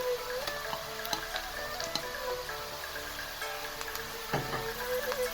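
Sliced onions frying golden brown in oil with garlic and ginger, for a turnip and meat curry, give a steady soft sizzle with scattered crackles and pops, moderately quiet and continuous with no voices.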